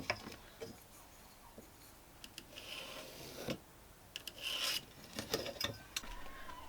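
A hand saw cuts through a piece of timber for a wooden peg rail, making rough, rasping strokes at close range in uneven bursts, with no voices.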